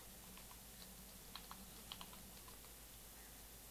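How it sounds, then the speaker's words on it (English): Computer keyboard keys pressed while working out game controls, a handful of soft, sparse clicks over a steady low hum with no talking. "Press some keys."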